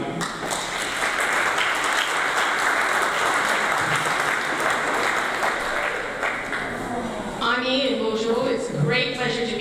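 Sustained, dense audience applause fills the hall for a historian after her introduction at a talk on Mississauga shared histories, steady and loud, tapering near the end as a voice begins speaking.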